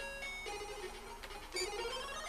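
Jolly chiptune title music from the ZX Spectrum game Bionic Commando, thin beeping tones in a quick melody, faint and slightly noisy, with no voices.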